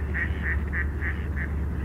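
Ducks and geese call along the Bow River in cold winter weather, a string of five evenly spaced nasal quacks over a low steady background rumble.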